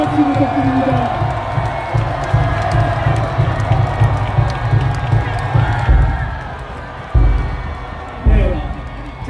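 Large outdoor crowd at a political campaign rally in Seoul City Hall Plaza applauding and cheering, a loud continuous roar with swelling bursts near the end.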